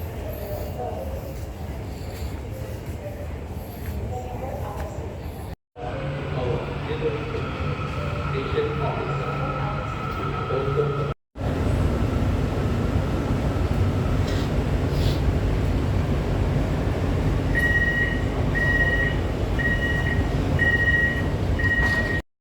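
A train rumbles at a station platform in a continuous heavy low roar with brief cuts, and near the end intermittent beeping chimes sound over it, while voices talk faintly in the background.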